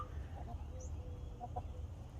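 Chickens clucking in a backyard coop during morning chores, a few soft, short clucks over a low steady background, faint and somewhat distant.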